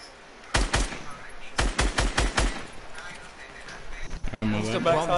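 Rapid automatic gunfire from a multiplayer shooter video game crackles in two loud bursts, a short one followed by a longer stuttering volley, then quieter game noise and a voice near the end.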